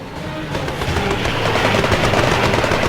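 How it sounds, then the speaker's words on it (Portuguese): Rapid machine gun and cannon fire in an aerial dogfight over Lake Balaton, a dense, continuous rattling barrage that builds slightly in loudness, with no talk. "Os céus sobre o lago Balaton tremem com o barulho dos motores e das rajadas de tiros de"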